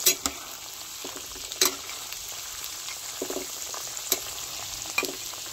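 Peanuts fry in a pan with garlic added, giving a continuous close crackling sizzle broken by a few sharp scraping stirs and clinks, with no one talking.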